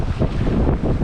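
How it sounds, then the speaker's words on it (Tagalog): Strong wind at the end of a seaside fishing spot buffets the microphone in a steady low roar, with a faint wash of sea behind it. "Medyo mahangin pala dito sa dulo."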